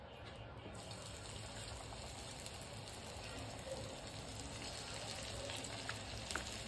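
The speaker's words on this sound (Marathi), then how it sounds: "तर आता आपण ह्याला तळून घेऊया।" Chicken 65 fries on a slow flame in a thick-bottomed iron kadhai, a faint, steady hiss and bubbling of oil that runs unbroken with no voices.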